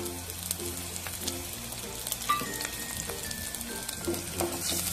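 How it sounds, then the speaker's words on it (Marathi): Finely chopped garlic and chillies sauté in hot oil in a pan for a momo sauce, giving a steady close sizzle with a few small pops and scraping stirs, and no voices. "बारीक तुकडे केलेला लसूण घालून घेऊ, त्याला छान परतू द्यायचे।"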